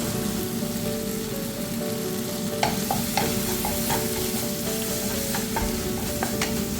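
Tomatoes with a pinch of Kashmiri red chilli powder fry in a pan, sizzling steadily throughout while spoon scrapes and small taps of stirring come through in the middle stretch.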